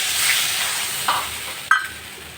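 Water poured onto sizzling spice paste for a thin rohu fish curry gives a soft hiss and steam, with two brief sharper sizzling bursts near the end.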